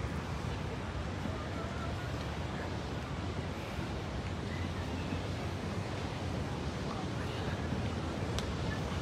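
Large ocean waves break steadily on a Californian beach, a loud, continuous wash of surf with wind rumbling across the microphone throughout.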